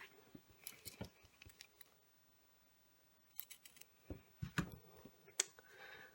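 Scissors snip through the fabric seam allowance of an in-the-hoop embroidered drawstring boxed bag, giving faint, scattered cuts and clicks in two clusters separated by a quiet pause, close and soft.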